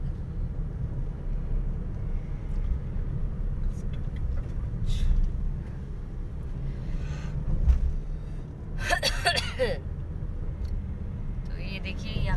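Car driving along a road in early morning, steady low road and engine rumble throughout with a brief louder passing noise near the end.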